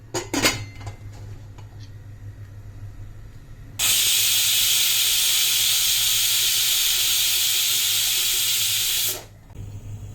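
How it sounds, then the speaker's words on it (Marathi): A pressure cooker cooking sweet coconut rice hisses loudly with a steady rush of escaping steam for about five seconds, then cuts off abruptly. A low hum and faint kitchen clinks sound before and after. "आता आपण कुकरमध्ये याला दोन शिट्ट्या काढून घेणार आहे"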